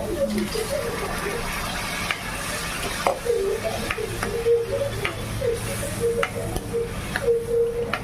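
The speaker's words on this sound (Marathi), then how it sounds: "आपला एकदम मसाला तळून झालेला आहे, तेल सुटलंय मस्त।" Spiced masala with taro frying in oil for a curry gives a steady, close sizzle, with stirring scrapes and soft clinks of a spoon against the pan throughout.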